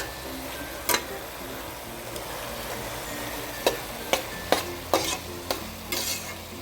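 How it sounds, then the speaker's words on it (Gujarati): Grated bottle gourd roasts in ghee for halwa, giving a low, steady sizzle broken by a handful of sharp ladle scrapes and clinks against the pot, mostly bunched toward the end. "હવે આપણી દૂધી શેકાઈ ગઈ છે"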